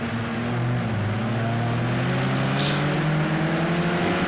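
Vauxhall Astra touring car in Project Cars 2 racing at Snetterton, with a steady loud engine drone and shifting pitch from the onboard view as it heads into a hairpin, with no talk.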